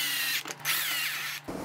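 A power drill whirs loudly and close while driving bolts into a 3D printed throttle case, a steady high whine briefly dipping between pulses, then stopping abruptly.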